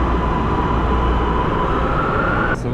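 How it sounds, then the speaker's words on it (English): Panama City metro train heard from inside a carriage, a steady loud rumble with a faint high whine running throughout, no voices. "So we're gonna take the train towards San Isidro"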